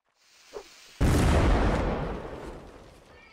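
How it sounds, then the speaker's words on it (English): In a Napoleonic Wars line-battle video game, a small pop is followed by a sudden heavy cannon blast, a loud booming report that rolls off into a slowly fading rumble. "Cannon."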